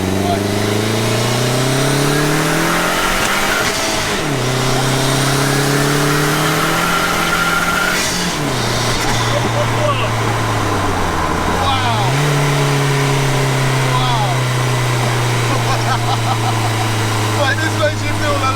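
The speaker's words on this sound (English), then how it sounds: "You go for a little second gear pull." A lightweight 400 bhp Spitfire build with a turbocharged 1.8T engine accelerates hard from inside the cabin, its engine note climbing through several rising sweeps with shift dips between, while occupants talk over the loud drone.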